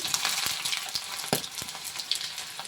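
Garlic, ginger and green chillies sizzle in hot oil for a mango curry, a steady crackling fry with a few sharp pops and stirring knocks.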